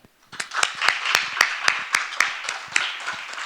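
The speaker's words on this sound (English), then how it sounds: "Please join me in a warm round of applause for Ms." Clapping at a conference event: a small group claps in a steady, evenly spaced rhythm, each clap crisp and close, with no cheering.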